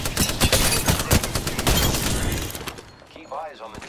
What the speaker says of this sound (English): Keep eyes on the enemies are shooting at me.